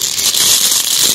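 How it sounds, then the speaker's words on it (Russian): A plastic bag crinkles loudly and continuously up close as a glass Christmas ornament ball is slipped inside, a dense rustling hiss with no talk. "Сейчас положим его в этот пакетик."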